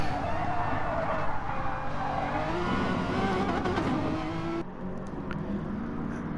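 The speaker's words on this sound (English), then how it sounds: "Tom unfortunately hit the curbs way too aggressively, and it's just launched him in the air, unsettled the car" A touring car in an online racing game championship at Dragon Trail clatters over curbs and loses grip, engine droning loudly with rumbling and a sudden shift as it slides off, heard without talk.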